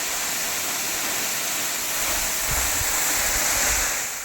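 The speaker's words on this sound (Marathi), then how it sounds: "मार्च संपायला आला आहे, तरीसुद्धा हा धबधबा वाहतो आहे." Yeram waterfall, a perennial fall at Palmalai in Nerur village, Kudal taluka, Sindhudurg in Konkan, still flowing in late March, makes a steady broad rushing roar with a deeper swell near the end and no voices.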